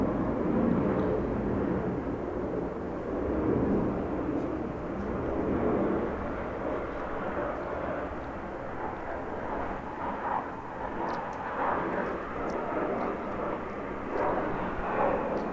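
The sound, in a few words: airplane flying overhead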